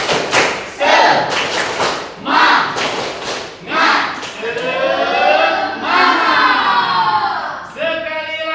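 A class of students claps together in a quick, rhythmic pattern, then voices chant loudly in unison, with more bursts of clapping between the chants.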